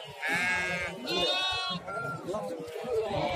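Sheep bleat loudly and repeatedly at a busy livestock market, with several wavering cries close by over steady crowd chatter and talk.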